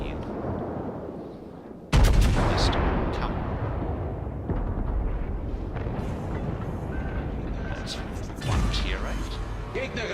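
Naval guns fire in a warship video game, a sharp loud blast followed by sustained rumbling and crashing impacts, with a second heavier boom near the end over continuous battle noise.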